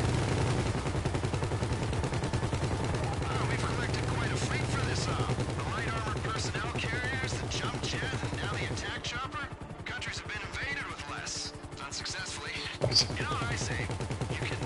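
Gunfire rattles through a heist in the Grand Theft Auto video game as rapid bursts of shots repeat through the first two thirds. Voices talk over the shooting, and a lone sharp bang lands near the end.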